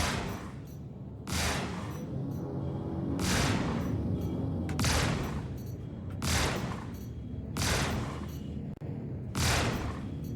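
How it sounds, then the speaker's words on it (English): Spaceship guns fire in the Star Citizen video game, several loud bursts of heavy gunfire in separate volleys, each with a booming tail, with no talk over them. "I'm shooting slow on purpose because I'm using all of my guns at the same time right now."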